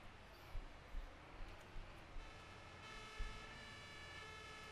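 A emergency-vehicle siren from a fire and rescue simulation game (Notruf 112) wails steadily at moderate level with a low engine rumble underneath, a few soft thumps scattered through, and no talking.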